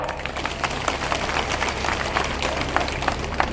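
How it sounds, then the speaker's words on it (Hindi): Crowd at a political thank-you rally in Ashoknagar claps in a steady, fairly even patter, broadband and moderately loud throughout, with no voices over it. "अगर सही है तो ताली बजाओ"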